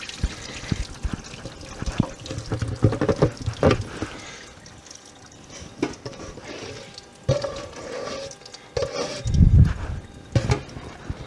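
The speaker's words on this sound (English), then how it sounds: "I'm just pouring the curds into the cheesecloth." Cheese curds and whey poured from a pot into a cheesecloth-lined strainer, giving irregular splashing and trickling with a few heavier gushes, close and fairly loud, with some handling knocks.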